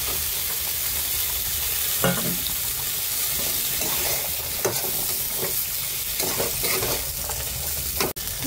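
Potatoes and cauliflower for khichuri fry in a pan with a continuous close sizzle, marked by repeated scraping stirs and a sharp clank of metal near the end.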